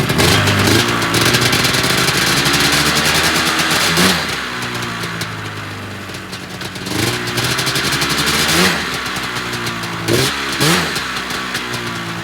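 An old XC 500 race sled engine revs hard up close, sounding like a 440 race sled, climbing and dropping through several throttle blips over a constant idle, loud and alone.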